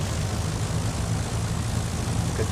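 A light aircraft's propeller engine runs after starting in the X-Plane 11 flight simulator, a steady droning rumble at idle that holds evenly throughout, close and unbroken.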